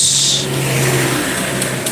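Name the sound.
automatic scooter engine sounding rough on morning start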